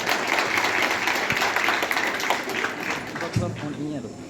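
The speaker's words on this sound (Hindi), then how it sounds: "मैं सबसे पहले जोरदार तालियों से इनका स्वागत करता हूं।" Loud audience applause welcomes guests at a school farewell ceremony for a principal, a dense steady wash of clapping with voices audible in the crowd underneath.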